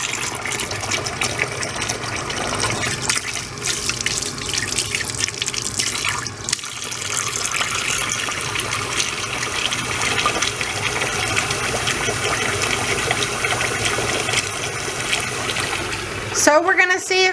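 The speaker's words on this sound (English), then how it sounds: "now I'm supposed to run the faucet, hot tap water, for about 30 to 60 seconds" Hot tap water pours steadily from a faucet down a kitchen sink drain being unclogged with baking soda and vinegar, a continuous loud rushing wash that persists throughout, ending with a brief clatter near the end.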